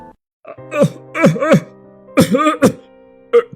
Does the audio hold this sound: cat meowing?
no